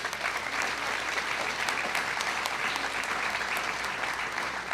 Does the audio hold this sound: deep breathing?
no